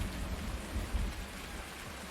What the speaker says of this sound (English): Come on, rain, go away.